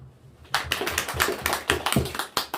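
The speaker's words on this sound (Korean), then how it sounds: "박수요." Congregation clapping during a church Sunday service, a burst of many hands clapping at moderate distance, fairly quiet and uneven, following a brief lull.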